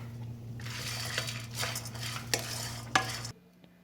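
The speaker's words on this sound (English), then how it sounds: "Add 2 teaspoons of cumin seed and roast it." Cumin seeds roast in a pan with a soft dry hiss and rustle, punctuated by a few sharp metallic scrapes and clicks of a spoon before it cuts off.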